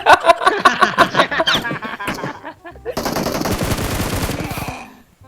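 Rapid bursts of PUBG Mobile gunfire, fast automatic shots in quick volleys with a brief lull, then a sustained stretch of firing that fades out.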